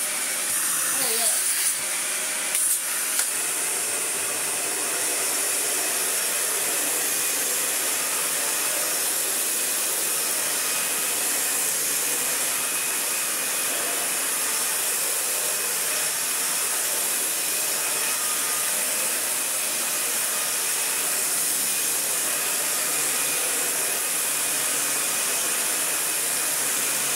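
A restored Dyson DC41 vacuum cleaner runs with a loud, steady broadband rushing hiss that continues unchanged for the whole stretch after a few brief knocks at the start.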